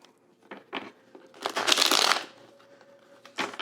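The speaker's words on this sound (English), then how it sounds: "And yes, I shuffle a whole heck of a lot." Tarot cards being shuffled in quick, papery bursts: a few short riffles, then a longer dense shuffle, then another brief riffle, close and soft with no talking.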